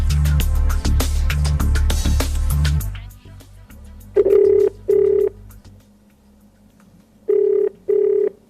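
A telephone rings twice in short repeated bursts for a radio call-in show, after a stretch of loud studio sound, then rings twice more, clear and close.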